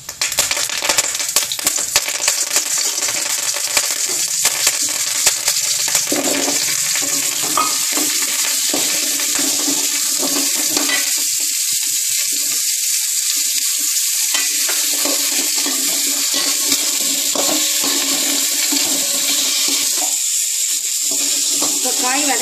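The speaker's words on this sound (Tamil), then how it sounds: "இப்போ காயெல்லாம் வதக்கிக்கலாம்." Vegetables being sautéed and stirred in a hot pan for sambar, with steady sizzling and frying crackle throughout, spoon stirring and scraping, and occasional speech over it.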